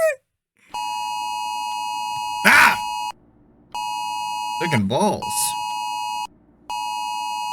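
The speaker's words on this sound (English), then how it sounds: "I jolt away by the sound of a siren going off on my phone." Amber Alert siren on a phone, loud piercing tones that repeat in steady bursts with short gaps, broken by a startled voice exclaiming over them.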